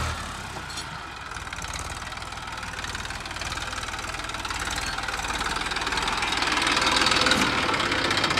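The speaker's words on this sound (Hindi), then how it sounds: "तो ट्रैक्टर तो बढ़िया चलाने लग रहा है भाई" A tractor diesel engine runs steadily with a knocking chug, close and continuous, growing slightly louder toward the end; no one speaks.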